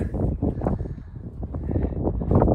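Wind gusts buffet the microphone outdoors, making a low, rumbling, fluttering roar that swells and dips over a couple of seconds with no clear speech.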